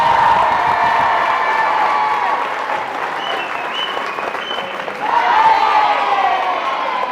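Enthusiastic applause and cheering from the audience at a fencing tournament for fencer Anita Blaze, loud and sustained, dipping slightly midway before swelling again with whoops.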